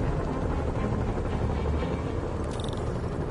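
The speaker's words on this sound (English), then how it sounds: "Bet I can use those helicopters to swing." Helicopters flying in Marvel's Spider-Man on PS4, a steady dense rotor drone filling the whole stretch at an even, fairly loud level with no pauses.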